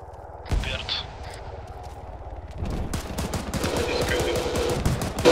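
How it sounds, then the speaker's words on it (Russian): Video game gunfire in Arma 3, bursts of automatic fire and single shots crackling at varying distance, growing denser and more continuous toward the end. "Сейчас кто стреляет?"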